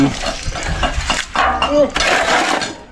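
Concrete for a beam form is mixed and shovelled in short bursts of gritty scraping and stirring, close and fairly loud, with people talking over the work.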